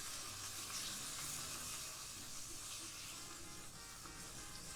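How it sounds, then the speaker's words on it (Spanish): Chorizo frying in a pot for chicken tinga, a steady faint sizzle and crackle with soft hissing throughout, quiet and close, with no voices. "Damos tiempo a que se cocine bien nuestro chorizo"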